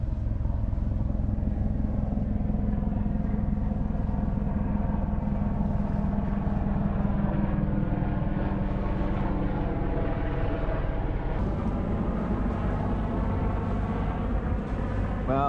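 A sailboat's engine runs steadily under way in light wind, making a continuous low droning rumble with a constant mechanical hum, close and unbroken throughout.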